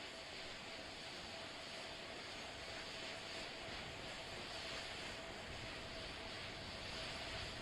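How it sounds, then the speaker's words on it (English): Four RS-25 rocket engines on the Artemis II rocket being gimbaled in a thrust vector control actuator test, heard as a steady, dense broadband roar with a faint tonal hum, continuous and unchanging throughout. "This is a gimbaling of the engines."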